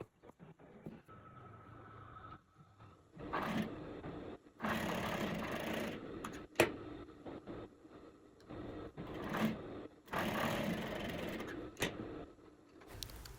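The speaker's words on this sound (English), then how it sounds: "So now for the sewing, you will join the shoulder of the front and the back with 1/2 inch." A sewing machine stitches a half-inch shoulder seam joining front and back pieces of a sleeveless blazer's main fabric, running in several moderately loud bursts of a few seconds each with short pauses between.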